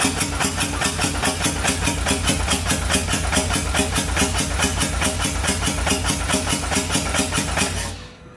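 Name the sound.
engine running while priming the motor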